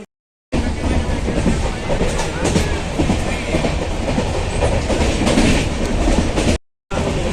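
Steady rumble and rattle of a moving passenger train, loud and continuous, with wheels clattering over the tracks and faint voices underneath.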